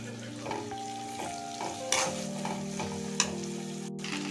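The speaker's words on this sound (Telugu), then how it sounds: "ఇలా మగ్గాక ఇప్పుడు అన్నం కలుపుకుందాం" Rice is stirred into capsicum masala in a pan, with spoon scrapes and soft clinks over a gentle frying sizzle, close and continuous, no voices.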